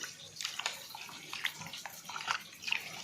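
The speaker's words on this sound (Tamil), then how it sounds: "நல்லா புளியை கரைச்சிக்கிடுவோம்" Tamarind is worked by hand in a bowl of water for a Tamil fish curry, making quiet, close sloshing and splashing with small irregular liquid sounds throughout.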